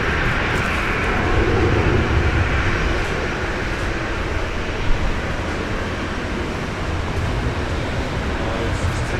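China Southern airliner departing Brisbane International Airport, a loud continuous broadband engine roar held steady throughout, no talking.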